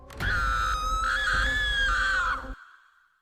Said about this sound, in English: The scream was so loud that several neighbors woke up.